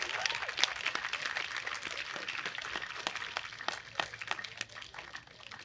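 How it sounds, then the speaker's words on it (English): Audience at a high school choir concert breaks into scattered applause, many hands clapping close with irregular sharp claps, thinning slightly toward the end. "I think that we are owed some applause from that."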